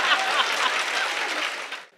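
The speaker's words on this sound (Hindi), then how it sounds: "अब ताली बजाओ नहीं तो ये हाथ यहीं रहेगा रात भर" An audience at a Hindi comedy poetry show (hasya kavi sammelan) claps in a dense burst of applause that holds steady for nearly two seconds, then cuts off quickly.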